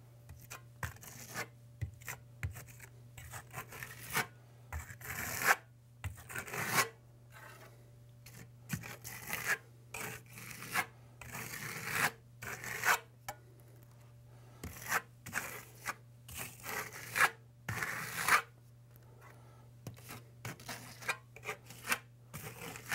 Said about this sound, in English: I'm going to use a skip trowel application, but a very tight one